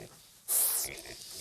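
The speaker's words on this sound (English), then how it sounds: "Danny has to bed down for the night with Petunia, the pot-bellied pig" A pot-bellied pig in Texas lets out one short, breathy grunt-snort up close, set against a quiet background.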